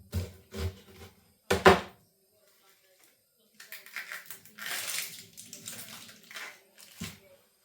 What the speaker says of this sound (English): I just gave it a little rinse under the tap.